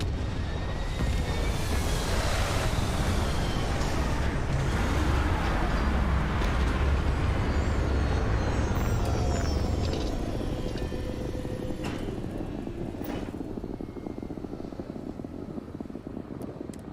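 A spaceship in the video game Starfield sets down for a landing, its engines roaring in a steady, dense rumble with whooshing thrusters that gradually ease off toward the end.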